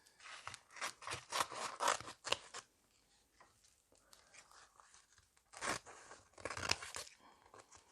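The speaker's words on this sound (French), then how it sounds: "je vais tout simplement prendre un morceau de mon tape, le couper à la bonne dimension." Close snipping and crinkling sounds come in two bursts as a piece of transfer tape is cut to size during a Cricut rhinestone craft project.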